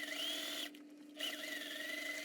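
A sewing machine stitching fabric for a ruffled bag strap, a steady close motor whir that pauses briefly for about half a second before resuming.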